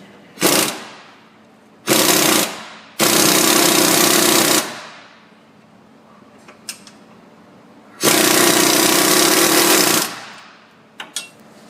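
A power tool cinches a bolt on a Ford Fusion front axle during a 6F35 transmission left-hand axle seal repair, firing in four loud hammering bursts of one to two seconds each, separated by brief quiet gaps and faint clinks.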